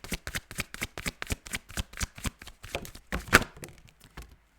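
Tarot cards being shuffled by hand, a rapid run of soft, crisp riffling flicks up close, ending in a firmer tap and a few quieter card slides.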